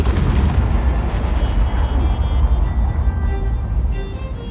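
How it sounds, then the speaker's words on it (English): Bomb blasts boom in the Star Citizen video game as an A1 bomber attacks Tumbril Storm AA tanks, heavy rumbling detonations rolling into one another and fading out toward the end. "the bomb didn't kill anyone, but it did knock a bunch of the tanks back"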